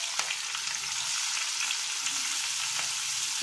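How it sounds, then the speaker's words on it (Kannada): Onions sizzle and crackle in hot oil with cinnamon and cloves for a tomato kurma, a close, steady frying hiss with a few brief stirring knocks and no voices. "ಈಗ ನಾನು ಈರುಳ್ಳಿ ಸೇರಿಸ್ತಾ ಇದ್ದೀನಿ."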